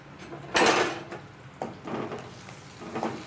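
Asafoetida frying briefly in a hot pan for tomato rasam. A loud clatter of pan or utensil opens it, followed by a few softer scrapes and light sizzling bursts near the mic, with no talking.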